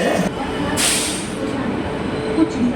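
A train rumbles steadily beside an Indian station platform with a broad hiss and faint squeals, some bursts of noise rising and fading.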